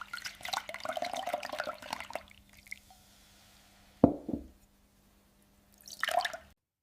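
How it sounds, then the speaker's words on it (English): A sand and water mixture poured through a filter: a burst of splashing and trickling, then silence, a wet squelch and drips, and another brief spatter of running water at the end. "The water passes through the filter, but the sand stays behind."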